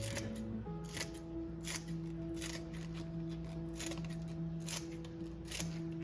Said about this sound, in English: I'm gonna take some green onion and just cut it up